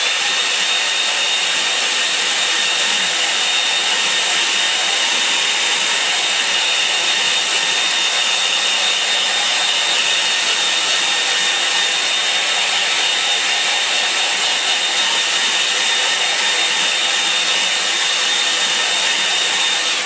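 A hair dryer blows on a watercolour painting of autumn scenery in the Lakes, giving a loud, steady whooshing hum with a thin high whine that runs unbroken throughout and is heard alone.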